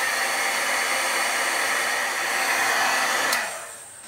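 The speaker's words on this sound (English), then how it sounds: "I'm going to use my heat tool to help it dry quickly." A handheld heat tool blows steadily to dry a light coat of Dylusions spray ink, a loud even whoosh with a high whine that cuts off near the end, leaving a softer fading hum.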